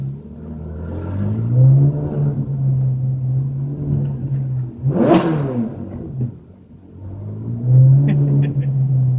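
A Ferrari 458 Speciale rumbling over a bumpy road, a low droning engine broken by a brief sharp rev burst in the middle, close and loud with no voices.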